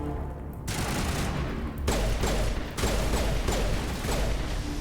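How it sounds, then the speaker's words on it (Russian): Rapid gunfire from the video game Mass Effect Legendary Edition, dense bursts of shots and mechanical clatter that kick in after a quieter opening and keep hammering loudly with brief lulls. "Мне кажется, стрельба получше стала."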